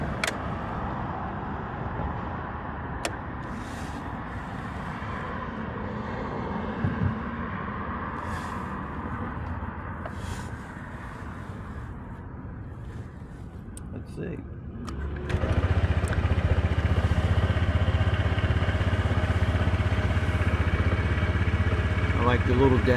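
2023 Honda PCX 160 scooter engine starting near the end, jumping from quiet background into a steady, close low idle hum, with someone talking over the quieter first part.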